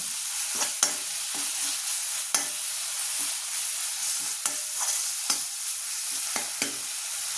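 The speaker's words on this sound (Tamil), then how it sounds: "இஞ்சி பூண்டு நல்லா பச்சை வாசனை நல்லா வதக்கணுங்க" Ginger and garlic sautéing in a pan for a chickpea and potato masala, a steady bright sizzle throughout with occasional sharp spatula taps and scrapes, close and fairly loud.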